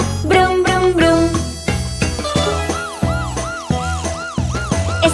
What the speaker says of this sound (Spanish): Una ambulancia viene ya